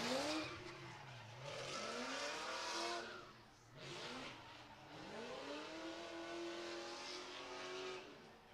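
Drift car with a 6.0 engine and Whipple supercharger working a course, its engine revving up and down in sweeping surges with tire squeal, fairly distant, no talk.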